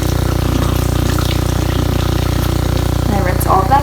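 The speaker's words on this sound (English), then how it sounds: "Then I take the water, which is not lukewarm, there we go, and I wet my face" Cold tap water runs steadily while a face is splashed and wetted, a loud, continuous gushing that fills the whole stretch without a break.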